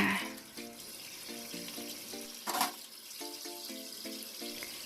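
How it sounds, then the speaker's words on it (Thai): Coconut meat is rinsed clean under running tap water, a soft steady wash heard faintly beneath a plucked melody of music. "แล้วนำเนื้อมะพร้าวที่ได้ไปล้างทำความสะอาดค่ะ"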